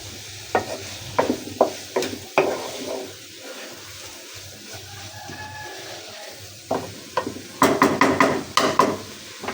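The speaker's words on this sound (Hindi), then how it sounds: "मज़ीद 1 से 2 मिनट हम इनको भूनेंगे" Vegetables for spaghetti are stir-fried in a pan, with a series of close scraping and clattering strokes from the spoon over a low sizzle, heaviest near the end, and nobody speaking.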